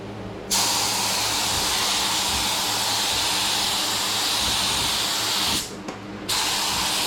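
Paint spray gun laying clear coat on a Honda CRX Si door: a loud, steady, close hiss that runs for several seconds, cuts out briefly, then resumes, with no talking.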